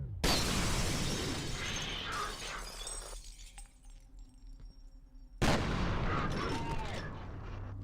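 Grenade explosions in the shooter F.E.A.R., a loud shattering burst at the start that decays over a few seconds, then a quieter stretch, followed by a second abrupt blast with debris and glassy crackle.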